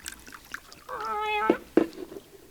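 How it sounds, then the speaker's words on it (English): On an old-time radio drama, a cat on a bar meows twice, a drawn-out wavering cry followed by a shorter close meow, over a quiet, faintly murmuring room. "Hush up, cat."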